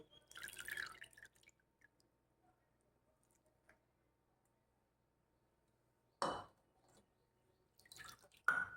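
Short bursts of water splashing and dripping into a container as grated potatoes are squeezed out by hand, separated by long quiet gaps, close by and fairly faint.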